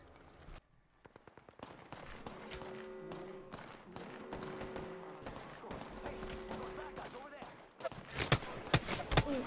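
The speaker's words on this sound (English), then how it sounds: "They're shooting my way now" Rapid bursts of gunfire in the Apex Legends video game, sharp repeated shots with impacts growing louder and denser toward the end, heard alongside steady game sounds and a tonal hum.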